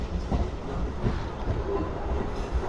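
A Renigunta to Nellore MEMU passenger train runs along with a continuous low rumble and a few soft wheel knocks spaced through it, heard from on board without talk.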